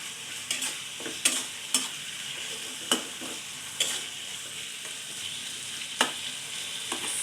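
Potatoes frying in a generous amount of oil for a potato and beef dish, a steady close sizzle with occasional sharp clicks and scrapes of stirring breaking through, no talk.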